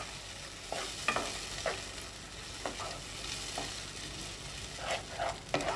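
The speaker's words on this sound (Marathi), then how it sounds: "आता ह्यामध्ये आपल्याला टोमॅटो पेस्ट घालायची आहे आणि छान मिक्स करून घ्यायचं आहे।" Onion fried until red and tomato paste sizzle in a pan while being stirred, with a quiet continuous fry hiss broken by repeated scraping spoon strokes and no voices.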